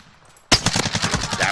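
Sudden burst of rapid automatic gunfire in a shooter video game, starting abruptly after a brief quiet moment and continuing as a loud, close, rattling stream of shots.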